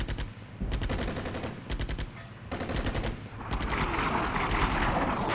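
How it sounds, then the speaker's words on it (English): Artillery and gunfire in the Armored Brigade 2 war game set in Cold War Finland, with rapid machine-gun bursts repeating in clusters over deep rumbling blasts, loud and close. "Enemy coming around with more artillery"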